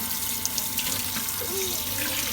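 Tap water runs steadily into a sink while a glass is washed, a close continuous splashing rush with faint clinks and squeaks of handling.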